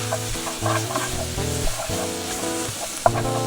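Ground beef sizzles steadily in a pan while a utensil breaks it up, with scraping stirs and a soft clack near the end, continuous and close.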